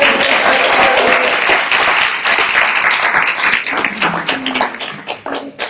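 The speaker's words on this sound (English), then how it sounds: "can we get one more round of applause for Antonio López?" Steady applause from a crowd at a poet laureate celebration, dense clapping that fills the room and gradually thins out toward the end.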